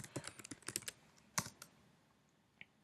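A few quick keystrokes on a computer keyboard, clustered in a short burst of clicks, then a single sharp tap and a faint final click after a pause; close and fairly quiet.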